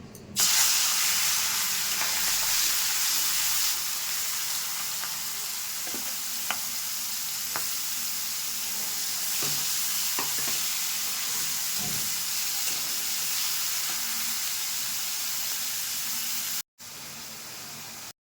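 Prawns rubbed with salt and turmeric fry in hot oil in a kadai, giving a loud, continuous sizzling hiss with occasional small pops and spatters for the whole stretch, briefly cut off near the end.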